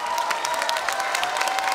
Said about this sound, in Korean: 박수 많이 주셔서 너무 감사드리고요.